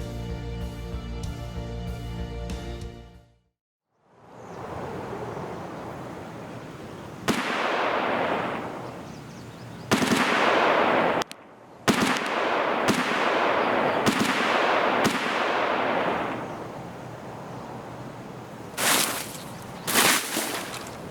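Bursts of gunfire in the video game Escape from Tarkov crack out in short, sharp volleys, some rapid strings of shots, separated by brief pauses and one near-silent gap.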